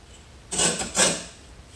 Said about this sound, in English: And you can hear that grit, so that's good.